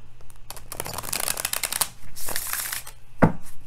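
Tarot cards riffle and shuffle in two quick bursts of papery fluttering, close up, ending with a soft tap as the deck is squared.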